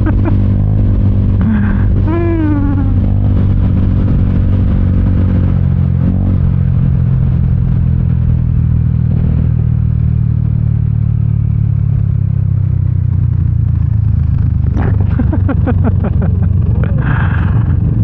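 A Vespa GTS300 scooter engine runs steadily with a low, continuous rumble throughout, close to the microphone, with brief chirping and clatter over it and faint talk in places.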